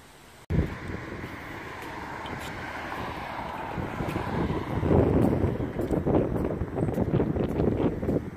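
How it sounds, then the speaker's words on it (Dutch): Gentle wind blowing at the Terneuzen marina on a warm, sunny October day, a steady low rush with microphone buffeting that swells and gusts more strongly midway, starting after a sudden bump. "een zachte wind"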